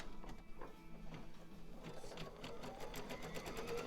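Sewing machine stitching a seam in a quilting or embroidery shop setting, a steady rapid mechanical whir with fast repeated needle clicks, close and continuous throughout with no talk.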